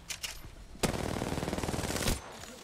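Automatic gunfire in the Apex Legends video game, a rapid burst of shots lasting over a second after a couple of single cracks, loud and close with no talking.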